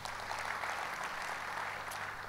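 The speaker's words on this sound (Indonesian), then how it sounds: "Kasih tepuk tangan bagi Tuhan." Applause from a church congregation during a Sunday sermon, a steady, fairly quiet wash of clapping that holds evenly throughout with no voices over it.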